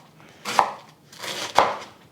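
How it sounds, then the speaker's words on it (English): A knife chops green onion stalks on a cutting board in two firm, evenly spaced strokes, close and clear with no talking, while ingredients are prepared for hot and sour soup. "I'm chopping up 3 stalks of green onion."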